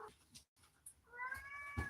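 Cat meowing indoors, a quiet scuffle first and then a drawn-out, rising meow that ends in a short louder burst, heard close with no talking.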